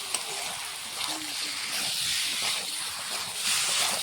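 Onions frying in a pan for mutton dopiaza, giving a steady bright hiss and sizzle that runs throughout with little change.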